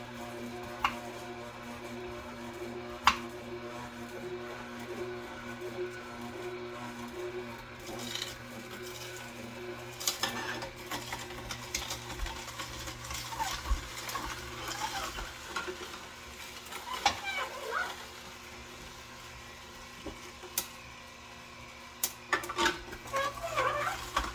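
A juicing machine runs steadily as chunks of beet are fed through it, giving a continuous grinding, crackling rush over a low motor hum, with scattered sharper crunches near the end.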